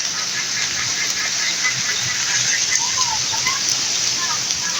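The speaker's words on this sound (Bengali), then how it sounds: "বৃষ্টির আনাগুনা দেখছি" Steady, dense hiss of rain falling continuously during a thunderstorm in Jhenaidah, Bangladesh, with scattered drop patter and no talking over it.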